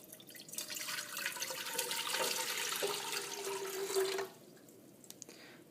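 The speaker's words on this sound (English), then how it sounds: "pour in the water" Water poured into a pot on a stove while making homemade dog food: a steady splashing, gurgling stream for about four seconds whose pitch rises as the pot fills, then stops, leaving faint drips and clinks, quiet and close.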